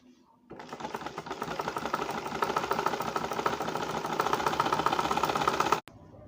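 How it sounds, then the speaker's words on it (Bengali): Sewing machine stitching cloth starts up suddenly and runs in a close, steady, rapid mechanical whir for several seconds, then cuts off sharply. "এটাকে আমরা এভাবে বোটে একটা সেলাই করে নেব।"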